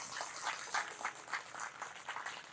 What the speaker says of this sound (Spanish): Vamos a darle un fuerte aplauso a ellos.